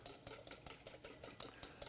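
A whisk beating egg yolks and a shrub in a deep bowl set over boiling water, quick regular metallic clicks about four or five per second, close and steady with no talk.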